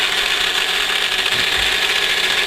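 A knob on a micro milling machine is turned about half a rotation, giving a ratcheting, gear-like mechanical whir that runs continuously under a steady hiss, with a brief low thump near the middle.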